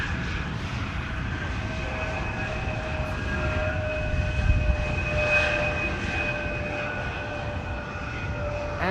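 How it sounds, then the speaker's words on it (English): A KLM airliner arriving from Luxembourg on runway 18R, the Polderbaan at Amsterdam Schiphol, produces a steady engine whine and rumble at moderate distance, swelling slightly mid-clip, with no talking. "This is KLM flight 1710 arriving from Luxembourg."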